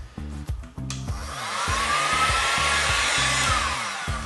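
A heat gun roars on close by, a loud steady rushing blast of hot air warming the glue on a Motorola Moto G phone's ribbon cable, preceded by a brief clatter and accompanied by a repeating low electrical buzz.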